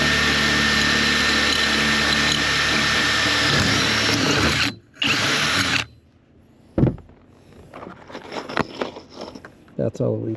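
A loud, steady power drill whirs for several seconds boring through the body of a Honda Odyssey van, cuts out briefly, then gives way to clanks, thuds and rustling handling noises.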